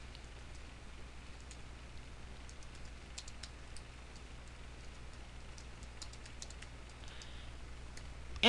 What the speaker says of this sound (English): you highlight the text and you start typing.